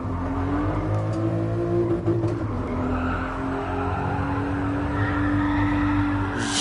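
Supra sports car in a VR driving game, its tires losing traction in third gear: a loud, steady engine drone with a sustained tonal squeal over broadband rumble, continuous and close throughout.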